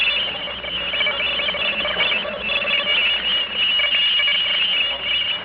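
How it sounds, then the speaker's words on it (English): Radio drama effect of a patterned noise message from outer space: a continuous, dense warbling electronic squeal with steady tones, loud and unbroken, no voices over it. "The next sound you hear is coming from outer space."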